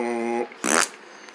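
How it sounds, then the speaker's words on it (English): A comic cartoon fart from an alien character: a single short, rasping blast that follows a brief tonal note, then quiet. "And I know aliens can fart."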